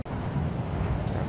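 Wind buffets a ship in the space game Star Citizen, a steady roaring rush with low rumble after a brief dropout at the start, no talking.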